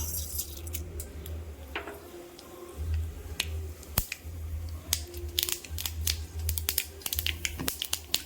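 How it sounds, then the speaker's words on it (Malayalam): Mustard seeds pop in hot coconut oil in a small pan, giving a dense scatter of sharp, close crackles and snaps over a low sizzle. "അപ്പം നമ്മുടെ എണ്ണ ചൂടായതിലേക്ക് കടുക് ഇട്ട് കൊടുക്കാം."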